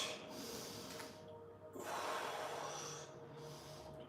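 Deep breathing during a yoga rest, with slow, close breaths drawn in and let out in long swells, a louder one in the middle, over steady low room hiss.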